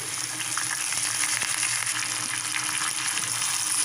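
Curry leaves fry in hot oil in a pan for idli upma, giving a continuous bright sizzle with small spattering crackles, steady and close throughout.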